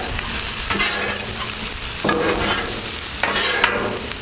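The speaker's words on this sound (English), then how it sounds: "Okay, let's turn this rice, getting a beautiful crisp." Habanero fried rice crisps in a hot pan with steak renderings, sizzling loudly and continuously close up while a utensil turns and scrapes it in a few distinct stirring strokes.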